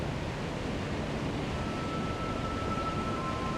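Roar of water at Willamette Falls, a dense, continuous broadband rush that holds steady and loud throughout with no breaks.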